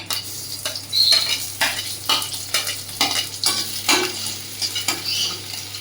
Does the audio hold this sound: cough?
no